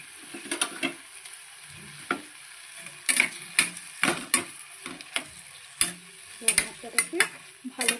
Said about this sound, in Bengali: মশলাটাকে ভালো করে লাল লাল করে ভাজা ভাজা করতে হবে।